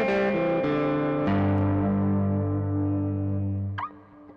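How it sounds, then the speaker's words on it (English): Electric guitar through a Walrus Audio Melee distortion and reverb pedal set to full, crunchy distortion: a few sustained chords that ring out and decay with a reverb tail, ending in a short squeal, fairly loud with no talk. "turn up the distortion all the way. And get really crunchy."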